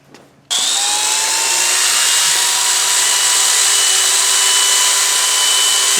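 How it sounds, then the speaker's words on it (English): A power grinder cutting through the chain link rivets of a Suzuki Bandit 1250 FA motorcycle, starting abruptly after a brief quiet moment and holding a loud, steady, high-pitched grinding whine close by. "I'm going to go ahead and grind clear through these down into the link a little bit"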